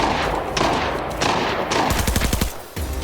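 Rapid automatic gunfire in the Arena Breakout shooter game, loud bursts of close shots with a tight run of rattling rounds near the end, no voices.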